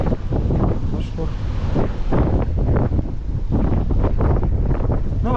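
Strong wind buffets the microphone on an open ferry deck heading out to sea, a steady roaring rush with low rumble beneath, while people talk over it throughout.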